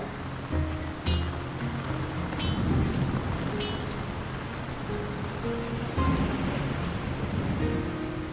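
Steady rain falls over a town in the Lord of the Rings: War in the North video game, a constant wash of pattering with faint tonal ambience beneath it.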